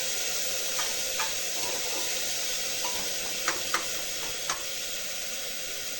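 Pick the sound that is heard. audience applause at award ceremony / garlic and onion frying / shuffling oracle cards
garlic and onion frying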